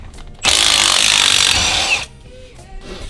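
A power tool loosening the nuts on the skid plate brace of a 2019 Subaru Crosstrek, a loud steady whir of about one and a half seconds, close by, with quiet handling noises before and after.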